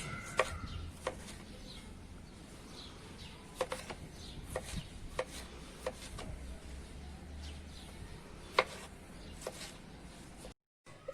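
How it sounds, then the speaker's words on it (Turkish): A knife chops tomatoes on a cutting board in irregular, sharp taps, spaced a second or so apart, over a quiet background. "ben domatesimi doğradım"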